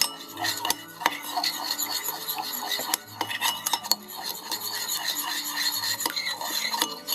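Sugar and other ingredients get mixed together with a spoon, a continuous close scraping and clinking of metal against a bowl with brief pauses in between.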